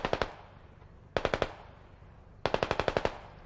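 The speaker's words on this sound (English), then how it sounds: "We're taking fire from our southeast." Automatic gunfire in the military shooter game Squad, three quick bursts of sharp, close shots, each burst ringing off into a short echo, with no talking over it.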